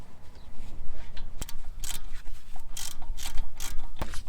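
Bolts for a brake caliper on a CLA 250 are screwed in with a ratcheting hand tool, giving loud close clicking and bursts of metallic ratchet noise over a low rumbling background, with no talking.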